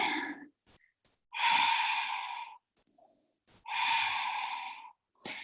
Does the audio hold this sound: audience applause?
no